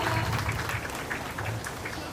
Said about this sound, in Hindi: Please everyone तालियों से स्वागत करिए हमारे बलवीर सिंह सर का।